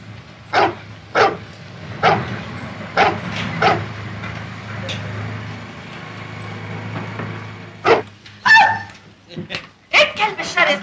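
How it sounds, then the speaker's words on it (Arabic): A fierce dog barks in sharp bursts, a few spaced barks at first and then a quicker flurry of yips near the end, fairly close, with a low steady hum underneath. "ايه الكلب الشرس ده؟"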